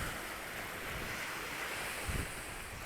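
Ocean waves washing in with heavy wind buffeting the microphone, a constant roaring wash with one slightly stronger surge near the end, swans out on the water; no voices.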